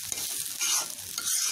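A spoon stirs hilsa biryani in a zinc wok, scraping and sizzling loudly up close in short repeated strokes over steady frying crackle.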